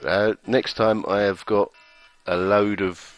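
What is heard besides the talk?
phone alarm clock going off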